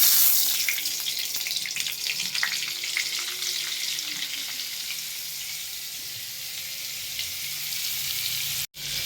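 Oil and butter sizzling together in a hot pan for a Bengali chicken dish, a steady bright hiss with small crackles and pops, close and continuous, then a brief cut near the end.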